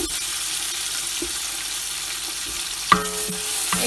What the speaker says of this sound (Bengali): একটু নেড়ে চেড়ে সব মশলাগুলো এখন দিয়ে দেব এবং আলুর সাথে মশলাগুলো কষাবো